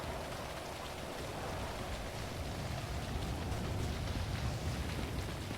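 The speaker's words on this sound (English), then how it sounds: "Calming rain sound for Gfred, yeah, it's quite nice." Steady, soft rain in a racing video game, an even broadband hiss with no clear breaks, fairly quiet, with faint hints of distant thunder and no voices.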